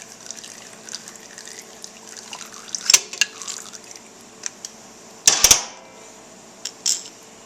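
Oil draining from a KX250F motorcycle into a drain pan during an oil change: a soft, steady trickle with scattered drips and a few louder splashes and clanks, close by.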